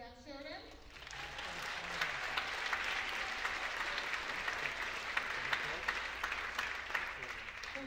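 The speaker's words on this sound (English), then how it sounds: "Let's give a round of applause to Jack Sheridan" Audience applause fills a choir concert hall for a percussionist, a dense, steady wash of clapping that holds strong for several seconds after a spoken introduction fades at the start.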